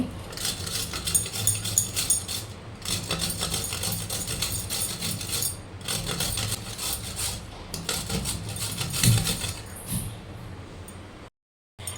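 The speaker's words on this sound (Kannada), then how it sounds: "ಕ್ಯಾರೆಟನ್ನು ನಾನಿಲ್ಲಿ ತುರ್ಕೊಳ್ತಾ ತುರ್ಕೊಳ್ತಾ ಇದ್ದೀನಿ" A carrot is grated by hand for vegetable momos, giving steady, close rasping strokes in a busy kitchen with some clatter of utensils, stopping briefly near the end.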